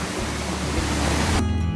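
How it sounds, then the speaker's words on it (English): Tarua (Tan Rue) waterfall on Koh Samui, a steady broadband rush of falling water close by, continuous and loud throughout with no talking, the tone thinning slightly near the end. "right now we arrive at the top of the Tarua waterfall."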